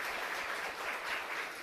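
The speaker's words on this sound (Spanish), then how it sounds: "así que otro fuerte aplauso" A church congregation gives sustained applause during Mass, heard as a faint, even wash of many clapping hands. It continues without pause and no single claps stand out.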